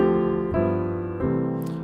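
A piano plays a 2-5-1 chord progression in C, three sustained chords struck in turn, clear and close with no talk.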